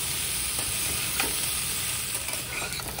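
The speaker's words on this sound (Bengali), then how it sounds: "এটা ভালো করে ভেজে নিতে হবে, কাঁচা কাঁঠালের একটা স্মেল থাকে, সেটা কিন্তু ভালো করে ভেজে নিলে চলে যাবে।" Raw jackfruit pieces fry in a pan with a steady, close sizzle that holds level throughout, broken by a few soft stirring scrapes.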